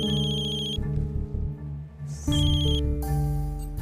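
A phone rings with a bright electronic tone, repeating in short melodic bursts, close and clear with no voices.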